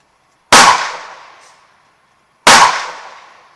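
Two loud, sharp rifle shots about two seconds apart, each with a long ringing decay, fired while zeroing an ATN X-Sight II scope.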